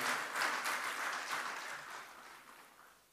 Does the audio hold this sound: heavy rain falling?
no